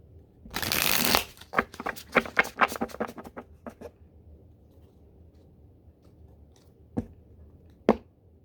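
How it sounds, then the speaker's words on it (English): A thick tarot card deck is shuffled up close in a dense riffling burst, followed by a run of crisp separate card snaps, then quiet with two isolated sharp flicks near the end. "That's all the shuffling we need."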